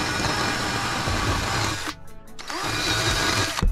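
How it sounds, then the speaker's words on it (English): Carbide burr on a rotary tool grinding paint off metal around a truck heater grid bolt, a loud continuous high whine that briefly dips and drops in pitch, then spins back up to full speed. "And so I just use this carbide burr."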